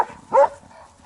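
A dog outdoors lets out a single, fairly close bark in the middle of a quiet moment, with faint background noise around it.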